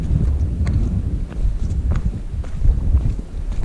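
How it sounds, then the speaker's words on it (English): Strong wind on a Lake District fell summit plateau buffets the microphone with a continuous low, rumbling roar that swells and eases slightly, close and loud, with no voices. "the wind's getting stronger"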